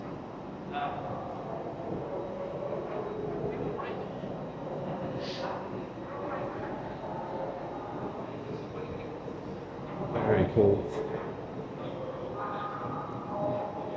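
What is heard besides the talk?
train at a station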